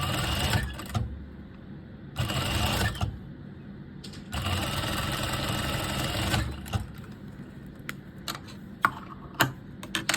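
Sewing machine stitching straight over an existing seam while sewing a strapless dress, running in several bursts of steady rapid whirring with pauses and small clicks between.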